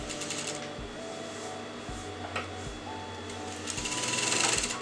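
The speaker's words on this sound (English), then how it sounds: "put the needle in, turn it out, and I'm going to sew all the way up." Sewing machine stitching up a garment neckline, its motor running in steady bursts with short pauses between runs, close and moderately loud with a light mechanical whir and rattle.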